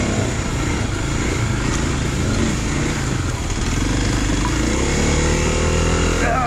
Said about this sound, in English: these high revving sounds you are hearing from the KLX is actually me clutching the heck out of it